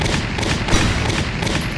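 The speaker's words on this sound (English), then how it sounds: "Please be careful of stray bullets." Dense, continuous video-game gunfire, a crossfire of overlapping shots and bursts held at a steady loud level with no pauses and no talking.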